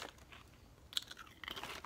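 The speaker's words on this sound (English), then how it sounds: "We've got a lot of big chips here. Good and, crunchy kettle" Crunching of Utz Maui BBQ kettle-style potato chips being bitten and chewed close up, with a few sharp crisp snaps among quieter, fainter chewing, and no talking.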